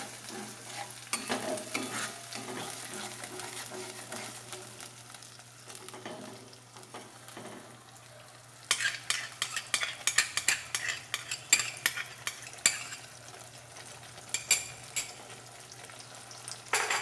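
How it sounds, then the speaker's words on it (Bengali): Masala with sour yogurt stirred and fried in a pan for malai kofta curry, a steady low sizzle with irregular scraping spoon strokes that grow louder and sharper partway through, no voices. "দিয়ে ভালো করে কষে নিয়ে যতক্ষণ না মশলা থেকে তেলটা ছেড়ে আসবে ততক্ষণ কষতে হবে"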